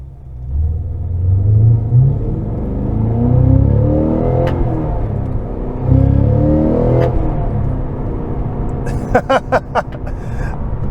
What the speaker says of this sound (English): The V8 sounds so good.